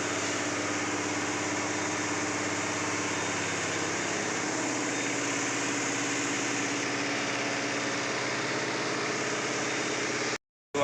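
A washing machine runs loudly, giving off a steady droning hum with a layered tonal whine that stays constant and close, ending abruptly.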